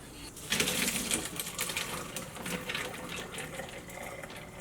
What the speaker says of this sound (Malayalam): ഇനി നമ്മൾ ഇതിൽ നിന്ന് വെള്ളം ഊറ്റി കളയാട്ടെ